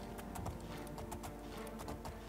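Horse hooves clip-clop rapidly in the video game The Elder Scrolls IV: Oblivion, a quick irregular galloping rhythm of sharp, close hoof strikes.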